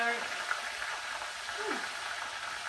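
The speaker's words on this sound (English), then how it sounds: "that is really bubbling." Chicken fingers frying in a pan of baking fat and coconut oil give off a steady, close sizzling hiss with bubbling crackle throughout.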